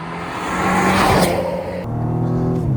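An orange Ford Mustang with a big rear spoiler roars loudly nearby, its engine note rising and swelling for a few seconds before easing slightly and holding at a strong throaty drone.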